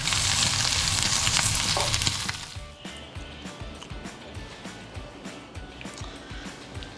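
Meat hits a hot pan and sears with a loud, bright sizzle that cuts off sharply after about two seconds, leaving quiet clattering and soft kitchen sounds.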